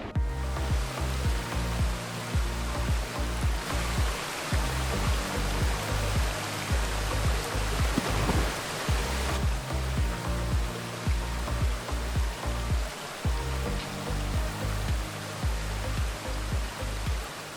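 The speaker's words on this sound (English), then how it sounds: "This was one of the waterfalls we were supposed to be able to swim at." A waterfall on the Ha Giang Loop in northern Vietnam gives a continuous broadband rush of falling water, steady and fairly close, with no talk.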